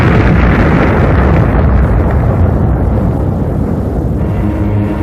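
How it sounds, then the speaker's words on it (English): Massive explosion of a space object striking Earth, a continuous loud roaring rumble filling the whole span with deep, dense low energy and no voices. "Trailing streams of fire, it broke into our atmosphere, and then came the explosion."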